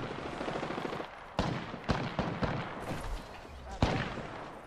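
Bursts of gunfire in the battle-royale game Apex Legends, several sharp shots spread over a few seconds against a steady game background, with players talking over it.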